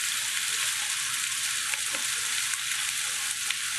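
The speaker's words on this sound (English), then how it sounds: "Add those to our pan. And let those continue to cook down." Butternut squash hash with onions sizzles and fries in a pan, a loud continuous crackling hiss with faint stirring, no voices over it.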